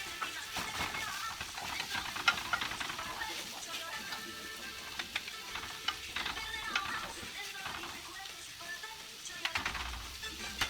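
Chicken meat frying in a pan, a steady close sizzle broken by scraping stirs and small clatters, with a voice talking intermittently over it.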